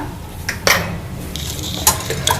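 Eggs beaten with salt in a bowl for egg paniyaram, heard as a few scattered utensil clinks against the bowl over a low steady background, with no talking.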